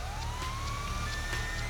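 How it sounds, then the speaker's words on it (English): A police siren in GTA Online sweeps upward in a steady wail, heard close over a low rumbling engine hum, with no talking. "God, that siren is so nauseatingly annoying"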